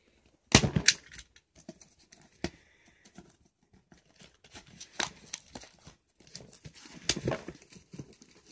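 An XY Evolutions Elite Trainer Box for Pokemon cards is being opened, with sharp cardboard snaps, tearing and crinkling plastic in irregular bursts, close by and otherwise quiet, no talking.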